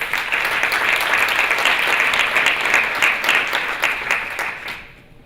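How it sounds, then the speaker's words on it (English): Conference attendees at a corporate philanthropy summit give a round of applause, a full, even wash of clapping that lasts about four seconds before dying away. "You just have a round of applause"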